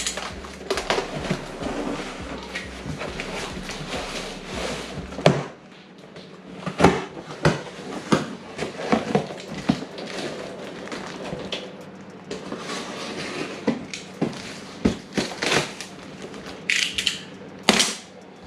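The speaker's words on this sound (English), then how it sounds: "Let's cut it open right here." A blade slices open a cardboard box holding car body parts for a Hellcat Charger, a splitter and side skirts, with scraping and tearing up close, then a series of sharp knocks and rustles as the box is handled.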